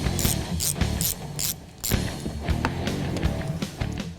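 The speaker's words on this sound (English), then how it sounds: "Now move on to the 5 rear 7mm bolts." Ratchet removing the five rear 7mm bolts under a 2013-2014 Mustang's front splitter, with loud, close rapid clicking in repeated bursts and short pauses between strokes, no talking.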